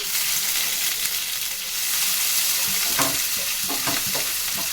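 Ginger and shallot paste dropped into hot oil in a frying pan for an eggplant curry, a loud continuous sizzle with stirring scrapes toward the end.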